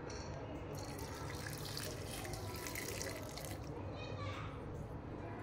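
Water pours steadily into a blender jar holding Indian gooseberries, coriander and grated coconut, a continuous rushing splash that stays loud and even throughout.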